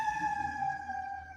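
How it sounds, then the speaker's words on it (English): A wailing emergency siren in the background, sounding as a steady tone that slowly drifts downward in pitch, fairly faint and heard on its own. "Ignore that siren in the background."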